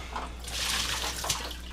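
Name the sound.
rinsing Levoit humidifier tank with distilled water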